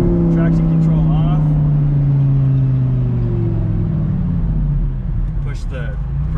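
An Audi R8 supercar engine roaring at close range, a loud sustained growl with rising and falling pitch as it revs, while people talk over it.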